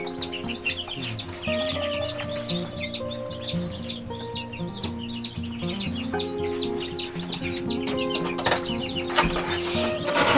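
Young chicks of Spanish and naked-neck laying breeds and Master Gray in a brooder chirp continuously in a dense, overlapping chorus of high peeps, with occasional lower clucks and rustling close by.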